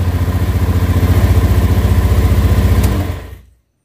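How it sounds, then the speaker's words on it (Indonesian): A fuel-injected motorcycle engine, started with the electric starter, idles loudly and close with a steady, even pulsing for about three seconds, then cuts off and falls silent. "kemudian kita cek starter semoga akinya bagus tuh bisa kan"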